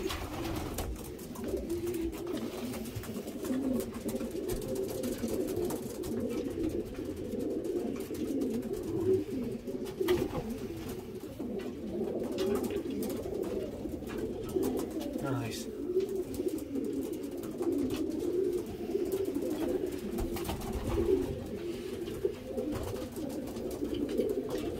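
Many pigeons coo continuously inside a small racing-pigeon loft in Belgium, a dense, steady murmur of overlapping low calls close by, with occasional wing flutters and a voice speaking now and then.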